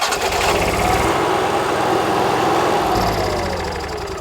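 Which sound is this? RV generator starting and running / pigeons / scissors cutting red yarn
RV generator starting and running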